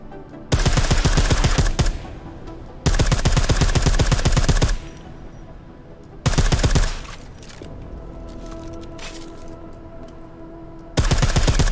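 Bursts of suppressed automatic gunfire ring out in Deus Ex: Mankind Divided, three long rapid volleys and a shorter one separated by quieter stretches of background game sound.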